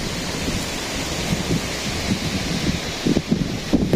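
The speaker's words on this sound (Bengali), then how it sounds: "ঘাসগুলো দেখেন কত নিয়ে ফুসছে বাতাস।" Wind sweeps across grass outdoors in a village: a steady rushing roar with low microphone buffeting and a few stronger gusts near the end, with no voices.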